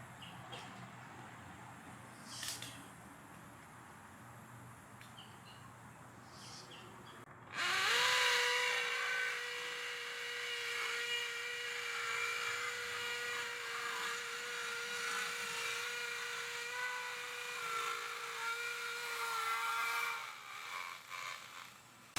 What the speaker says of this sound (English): We'll take this and drill a hole.